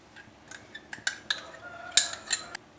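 Cinnamon and cloves clink and scrape in a pan of ghee for Mangalore restaurant-style biryani, about ten sharp metallic taps of a ladle at an irregular pace, close and moderately loud, with no talking.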